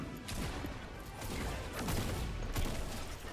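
Video game gunfire in Fortnite, a faint, dense rattle of shots with a few sharper bursts under a noisy mix.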